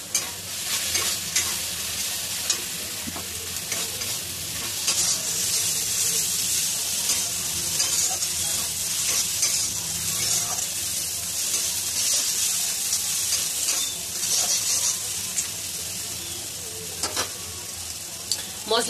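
Softened tomato with turmeric and chili powder fries in a pan, giving a continuous crackling sizzle broken by frequent scraping stirs and occasional clinks over nearly twenty seconds.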